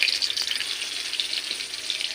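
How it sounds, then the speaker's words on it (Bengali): Whole spices (black cumin, bay leaves and green chillies) sizzling in hot oil for a Bengali fish curry: a steady, close, fizzing crackle with no pauses. "ওই তেলের মধ্যে আমি ফোড়নটা দিয়ে দেবো, কালো জিরে, তেজপাতা আর কাঁচা লঙ্কা"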